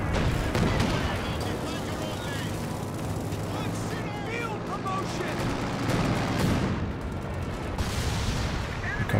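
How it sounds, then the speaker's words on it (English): Mortar barrage and artillery fire in the Company of Heroes 2 video game, a dense run of thudding impacts and bursts across a busy 4v4 battle, with game voices and effects mixed in throughout. "That was the artillery officer, mortar barrage,"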